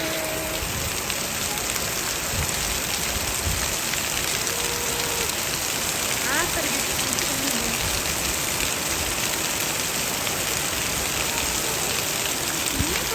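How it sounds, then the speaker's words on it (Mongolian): Rain falls in a steady, even wash of hiss and patter, close by and constant throughout, with faint background noise and no clear talk. "Баян энэ бороо."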